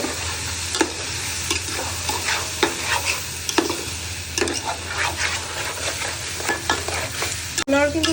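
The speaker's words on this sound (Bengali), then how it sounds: "রসুন বাটা আর আদা বাটা। এখন নাড়াচাড়া শুরু।" Garlic paste and ginger paste stirred in a hot pan, loud scraping strokes repeating over a constant close sizzle.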